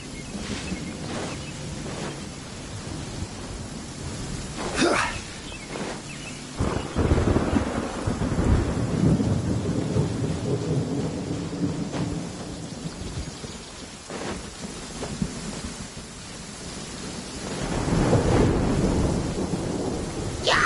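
Heavy rain patters steadily in a Genshin Impact thunderstorm, broken by several loud rolling thunder cracks and rumbles, with no talking over the downpour.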